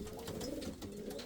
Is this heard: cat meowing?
no